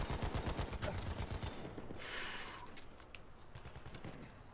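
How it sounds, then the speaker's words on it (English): Rapid gunfire crackles in a Battlefield 1 firefight, a dense burst of close shots in the first two seconds, then scattered sharper reports and a brief whining ricochet over a busy background of game combat. "I'm in an intense firefight right now."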